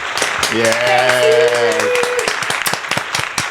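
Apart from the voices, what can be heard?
applause button sound effect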